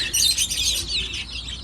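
High, busy chirping from a group of chicks, continuous and fairly close, with no talking.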